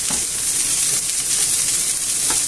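Chicken legs sizzle while browning in a little oil in a pan, producing a steady, close crackling hiss with faint stirring knocks and no talk.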